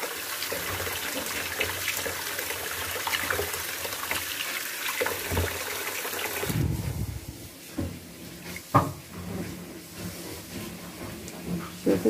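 Tap water runs steadily into a sink while sesame seeds are rinsed in a bowl, a continuous hiss that drops off partway through, then gives way to faint splashing and handling sounds.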